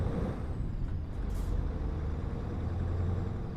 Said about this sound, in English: And there's a truck right behind me.